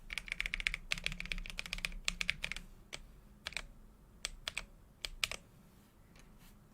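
Clicky keystrokes from a custom-built mechanical keyboard, close and crisp, arriving in quick bursts of typing and then slowing to scattered single presses with short pauses between.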